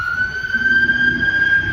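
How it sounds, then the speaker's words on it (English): An ambulance siren wailing steadily from outdoors as it goes by, one loud sustained tone holding over a low rumble of traffic. "there goes the ambulance"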